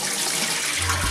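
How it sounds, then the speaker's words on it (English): Cold water poured and swished over rice being rinsed for fish pulav, a steady close splashing and running-water wash with a brief louder pour near the end, no voices. "Third one I'll wash with cold water."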